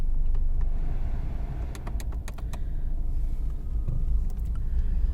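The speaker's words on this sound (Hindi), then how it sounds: "And let's start this car." A Toyota Glanza V manual hatchback's engine idles with a steady low rumble, close up, broken by a few faint clicks and small cabin rattles, with no talking.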